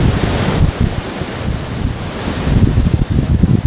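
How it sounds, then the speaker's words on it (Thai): Strong wind buffets the microphone while heavy surf crashes continuously at Hua Hin beach, a loud, dense roar of breaking waves and gusts with no voices. "คลื่นลมแรงคลื่นแรงมากนะครับ"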